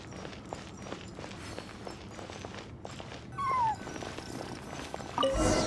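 In-game Genshin Impact scene inside explored ruins: a cat's soft meow rises briefly amid quiet footsteps and faint ambient rustling, with a short brighter burst near the end.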